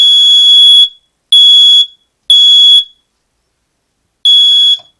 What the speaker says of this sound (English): This is a emergency or security alarm that I kind of hooked in.